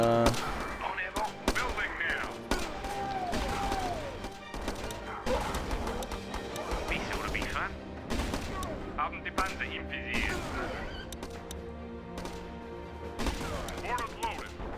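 Machine gun nest fire in the Battle Islands Commanders game: dense, continuous rattling bursts and booms of battle gunfire throughout, with speech faintly mixed in.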